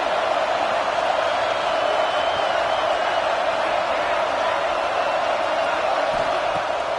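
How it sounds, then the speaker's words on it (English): A large stadium crowd at a college football game roars and cheers in a continuous, dense wall of noise. "This crowd bringing the energy and noise early."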